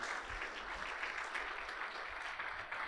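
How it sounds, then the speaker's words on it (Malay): Faint, steady audience applause in a hall at a secondary school Malay debate final, a soft continuous patter lasting a few seconds. "Berikan tepukan sekali lagi ya warga dewan sekalian"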